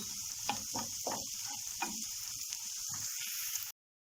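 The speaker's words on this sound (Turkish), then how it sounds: "hem kızardı hem piştiler gördüğünüz gibi" Potatoes fry in a pan with a steady close sizzle, broken by a few stirring scrapes, then cutting off abruptly near the end; no voices.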